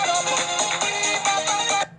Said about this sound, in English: my phone's going up while I'm reading this to you.